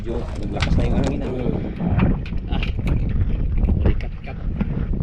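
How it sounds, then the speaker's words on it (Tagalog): Strong wind buffets the microphone aboard a fishing boat at sea, a loud rumbling gusty roar mixed with boat knocks and water movement, with people talking over it. "medyo naglakas na yung hangin."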